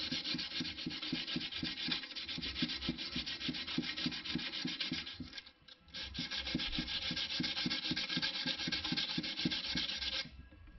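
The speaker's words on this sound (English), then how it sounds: "I can start coming back with the sandpaper" Sandpaper rubbing steadily back and forth over stainless steel car trim on a Holden HT Monaro, a close, rhythmic scratchy sound with a brief pause near the middle before the strokes resume.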